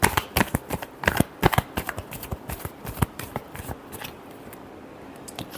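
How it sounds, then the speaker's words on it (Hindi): Tarot cards are shuffled by hand up close, a quick run of crisp riffling snaps and flutters that thin out toward the end, with no talking. "Last shuffle."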